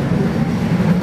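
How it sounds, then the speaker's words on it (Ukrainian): Tram riding through Bratislava, a loud, steady low rumble of the railcar in motion with faint rolling wheel clatter, no voices. "ми катаємо по Братиславі в трамвайчиках"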